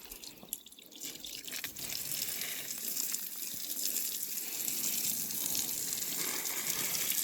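Water pours steadily from a container into the soil of a potted peppermint plant, a continuous close trickle and gush that grows slightly louder over several seconds, with no talk.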